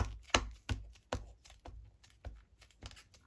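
A series of sharp, dull thumps of a rubber stamp pressed onto paper lands at an uneven pace, about eight quick presses against a hard surface, close up and fairly quiet.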